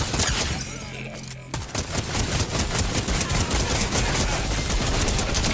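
Rapid automatic gunfire in a Fortnite boss fight, a dense sustained stream of loud shots after a brief pause near the start, with other weapon sounds layered in and faint talk under it.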